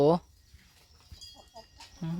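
A rooster crows loudly at the start and again at the end, with softer clucks and farmyard sounds between the calls.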